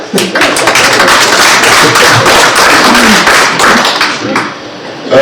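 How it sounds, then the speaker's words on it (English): Women clapping at a political rally for a presidential candidate, a loud, dense burst of applause with a voice speaking over it. "I expect women to clap."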